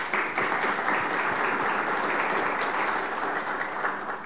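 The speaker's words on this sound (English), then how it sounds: "Please give them all a round of applause." Conference audience applause, a full, steady round of clapping from a large room that holds evenly throughout before easing slightly at the end.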